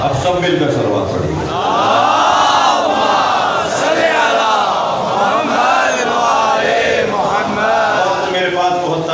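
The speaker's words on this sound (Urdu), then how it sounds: "اب سب مل کر صلوات پڑھیے." A large crowd gathered in an old imambargah in Lahore during a majlis recites salawat together in unison, a loud, sustained chorus of many voices with rising and falling phrases.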